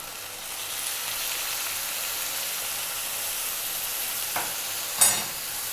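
Beef brisket stir-fried with oyster sauce and stock over high heat gives a steady sizzling hiss, with a couple of sharp spatula scrapes near the end and no talk.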